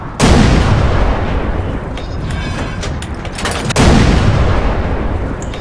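Two loud, heavy booms of tank cannon fire in a tank video game, each followed by a long rumbling decay, close and dominant with no talk.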